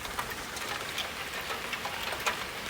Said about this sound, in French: c'est de la bonne pluie stratiforme